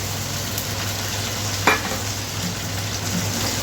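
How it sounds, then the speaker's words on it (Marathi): Onion-spice paste tipped into onions frying in a pan for egg curry, a loud steady sizzle with a sharp scrape of a spoon midway and continued stirring over a low background hum. "आता आपण त्याच्यात घेऊयात आपलं हे पेस्ट टाकून."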